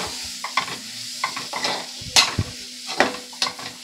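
Chilli powder and chaat masala spices for a fish masala are stirred in a hot pan, giving steady close scraping strokes over a soft, continuous sizzle.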